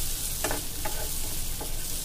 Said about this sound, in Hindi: देखिए आलू अच्छे से फ्राई हो चुका है फ्रेंड्स।